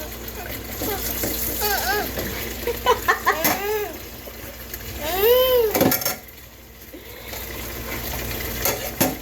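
Tap water runs and splashes while a child washes dishes at a sink, giving a steady gush under clattering and bright pitched tones, with a voice talking over it.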